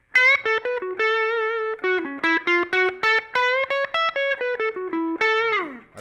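Electric guitar played through a Line 6 patch with the compressor switched off, a brisk run of distorted, sustained chords and notes that sweep up and down and end with a falling slide, loud and close with no talking.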